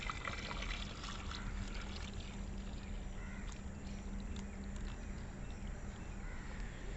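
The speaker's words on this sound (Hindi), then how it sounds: "अब इसको ओपन किया, ये दूसरा बॉक्स है, इसमें फिर से फीड डालेंगे।" Feed poured into a second beehive box during off-season feeding makes a steady, close trickling pour that runs unbroken and evenly loud throughout, with no talk.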